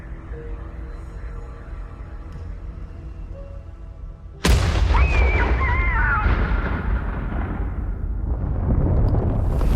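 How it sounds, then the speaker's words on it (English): A third explosion goes off in Merrill, Michigan, as a sudden loud boom that jumps out over a quieter background and then rolls into a long, dense rumble with debris-like crackle that lasts for several seconds. "2:07 p.m., and there's a third explosion"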